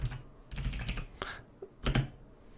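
Keys tapped on a computer keyboard in short irregular bursts, close and fairly quiet, with no one speaking while a word is typed out.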